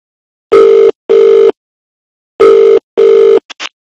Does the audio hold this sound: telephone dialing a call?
yes